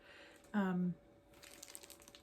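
A plastic bag crinkles faintly as it is handled, a short patch of soft crackling after a brief voiced sound, recorded close in a quiet room.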